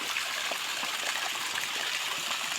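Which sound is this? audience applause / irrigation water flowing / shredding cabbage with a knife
irrigation water flowing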